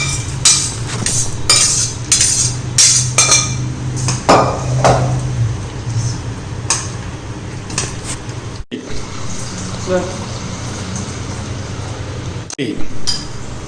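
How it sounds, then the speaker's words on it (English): Boiled vegetables being smashed in a pot of vegetable soup, with a metal spoon scraping and clinking against the pot in irregular bursts, close and fairly loud, fading to quieter stirring later. "you can smash the vegetables like this so that all the extract goes into that"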